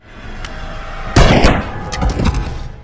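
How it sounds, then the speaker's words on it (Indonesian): A gunshot from an action crime film, one sharp loud blast followed by a short rumbling tail, with some faint pops before it. "Dia ditembak oleh Anton Ngondoy yang tiba-tiba sudah berada di sana"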